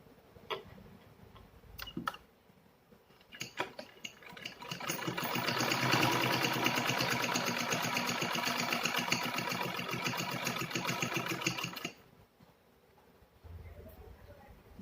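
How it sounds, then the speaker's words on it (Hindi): A sewing machine stitches a fabric pocket organizer made from reused cloth, whirring in a steady, rapid mechanical rhythm for several seconds after a few starting clicks and handling taps, then stopping abruptly and leaving quiet rustling. "यहाँ से सिलाई शुरू कर देंगे"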